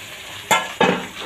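Vegetable bhaji frying in a pan with turmeric, chili powder, green chilies and cumin, a steady sizzle broken by two loud stirring scrapes in quick succession, close up and with no talking.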